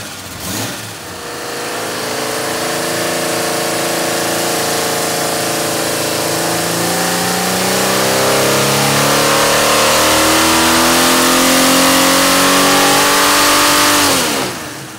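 A Jeep engine on a dynamometer, fitted with an unported cylinder head, revs in one long sustained pull, its loud roar climbing steadily in pitch for about twelve seconds before easing off at the end.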